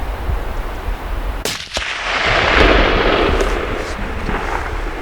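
A single loud rifle shot rings out during a deer hunt, a sharp crack at about one and a half seconds followed by a long rolling echo against steady outdoor background noise.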